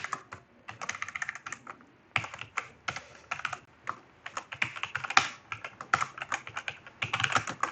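Code is typed on a computer keyboard in a quick, irregular patter of close clicks and keystrokes, with brief pauses and no talk.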